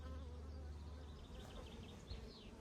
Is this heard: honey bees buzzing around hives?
yes